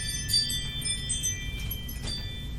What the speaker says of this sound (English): You had to wait for the musical chimes.